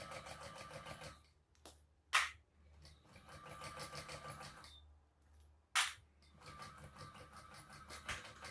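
A domestic sewing machine runs in steady bursts, stitching a narrow basting seam along the edges of a quiver sling bag, with brief pauses and sharp clicks between runs.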